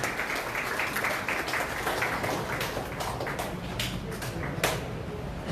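An audience at a Korean party appointment ceremony claps steadily, a dense patter of many hands that carries on evenly from start to finish.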